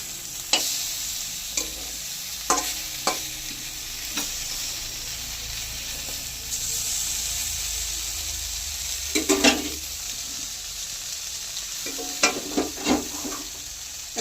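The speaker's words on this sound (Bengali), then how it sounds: "শিমগুলো একটু উল্টিয়ে পাল্টিয়ে ভালো করে একটু লাল লাল করে ভেজে নেব" Flat beans sizzle in a hot pan as they are stir-fried, a steady close frying hiss broken by sharp scraping and tossing strokes of a spatula, with a louder burst of stirring near the end.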